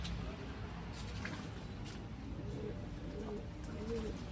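Pigeons in a pigeon house being cleaned, cooing softly through a low, continuous background murmur, with a few faint, brief calls rising now and then.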